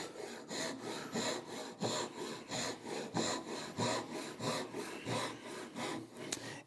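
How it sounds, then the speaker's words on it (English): Hand saw cutting dovetail tails in a wooden board for a half-blind dovetail joint, a steady rhythm of about a dozen close, rasping strokes with no talk. "I can see the line that I'm sawing to on this side"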